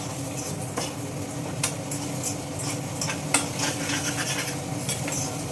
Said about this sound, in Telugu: ఒక్కసారి కలిపేద్దాం.